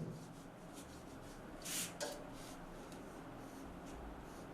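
Chalk or a pen writes on a board during a chemistry class, with faint, steady scratching and a couple of brief rubbing strokes over a quiet room hiss.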